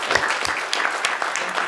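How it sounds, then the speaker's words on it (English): A conference audience at a technology panel applauds the organizing committee with a dense, lively burst of clapping. It is fairly loud and continuous, with a few sharper individual claps and no talking over it. "I want to give them an applause"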